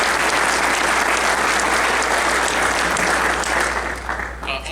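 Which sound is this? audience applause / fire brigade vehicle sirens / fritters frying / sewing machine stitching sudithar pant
audience applause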